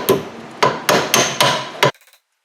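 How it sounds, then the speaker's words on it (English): Five sharp metal taps of a pry bar driving a brake bolt through on a 2009-2014 Hyundai Sonata rear brake job, evenly spaced and loud, followed by a few faint small clinks. "we're just going to tap the bolt through"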